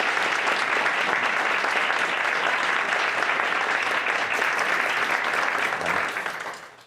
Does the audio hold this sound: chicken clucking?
no